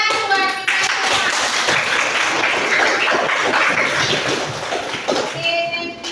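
A room of students clapping together after finishing a class presentation, a busy, continuous patter of hands lasting several seconds before tapering off, with faint voices underneath.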